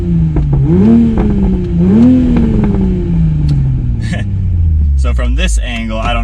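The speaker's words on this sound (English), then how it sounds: "so in normal mode, we'll just do a quick rev. Alright, and then sport mode." A Toyota A90 Supra engine in sport mode is blipped twice in quick succession, each rev rising sharply and then sinking into a long, smooth falling drone, with brief voices near the end.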